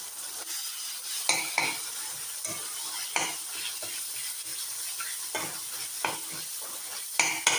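Ground masala paste stir-frying in oil in a pan for a Tamil kuzhambu curry, a steady close sizzle broken by repeated scraping stirs of a spoon against the pan.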